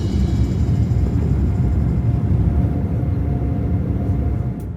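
A Boeing 787 Dreamliner departing from Malaysia, heard as a loud, steady low roar of jet engines that fades slightly toward the end.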